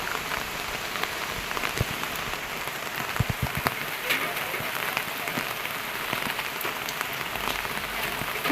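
Steady rain pattering on surfaces, dense and continuous, with a few sharper drips standing out close by.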